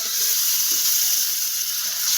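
Ginger garlic paste fries in a hot pan with a loud, steady, hissing sizzle that stays constant and close for the whole moment, with no talking over it.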